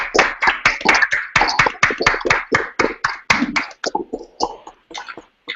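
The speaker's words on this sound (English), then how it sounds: "You did a really good job, so another round of applause" A small audience claps after a student group's presentation at a lecture, with a quick run of close, sharp claps that thin out and fade over the last couple of seconds.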